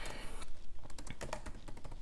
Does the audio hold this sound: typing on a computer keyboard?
yes